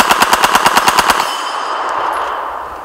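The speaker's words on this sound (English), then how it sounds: "It's not every day you get to shoot an MP40." An MP40 submachine gun fires one rapid full-auto burst of about ten evenly spaced, loud shots using Winchester ammunition, followed by a ringing outdoor decay.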